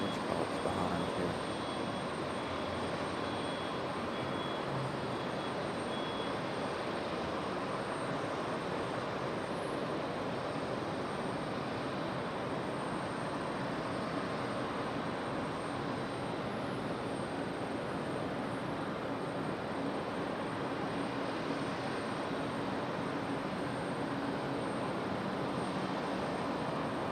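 A Delta Boeing 757 jet on final approach during stormy weather gives a continuous broad roar that stays steady and fairly loud throughout, with a faint high whine over it.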